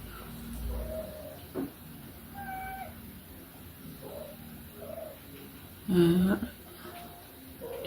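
A house cat meows a few times indoors during a makeup palette session. The meows are short and fairly faint, spread over a quiet room with light background noise, with one louder, clearer call near the end.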